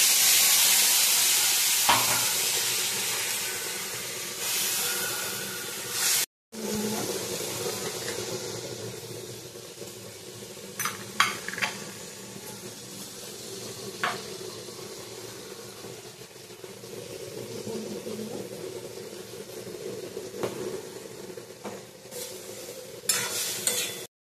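Ginger and green chili paste, with chopped tomato, fries in a pan for a mourola fish chorchori, a dense sizzle under repeated spatula stirs and scrapes, with a brief break in the middle and occasional sharp clinks.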